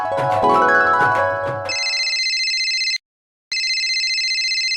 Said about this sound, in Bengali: কিরে ফোন দিল কেডা